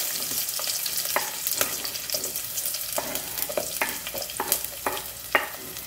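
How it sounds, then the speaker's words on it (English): Onion and garlic sauté in oil with a loud, steady sizzle, while a spatula stirs and taps the pan in irregular clicks throughout, with no talking. "So we have to put oil. We put our onion and garlic."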